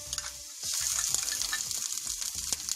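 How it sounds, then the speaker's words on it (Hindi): Garlic and ginger sizzling in hot oil over a medium flame while chutney for momos is prepared. A loud, crackling fry bursts up partway through and then keeps hissing steadily for a couple of seconds. "ऑयल हमारा गर्म हो गया है, अब मैं इसमें गार्लिक ऐड करूंगी और जिंजर भी अपना ऐड कर लूंगी मैं"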